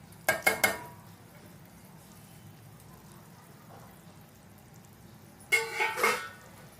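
Spices and a bay leaf are stirred in a pot: two bursts of metal spoon clatter and scraping, one at the start and one near the end, with a quiet low background hum between them.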